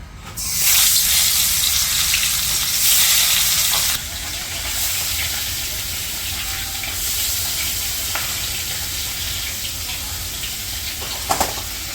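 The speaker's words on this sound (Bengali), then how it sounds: "মাছগুলো এখন ভাইজে নিই।" Marinated fish sizzles loudly in a hot pan, the hiss strongest for the first few seconds and then settling into a steady crackle with a few faint clinks near the end.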